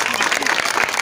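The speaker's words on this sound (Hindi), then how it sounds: "तालियां तो बजा दो भाई।" Applause from a crowd at an election campaign gathering for a ward candidate, a dense continuous patter of clapping filling the short moment, close and loud.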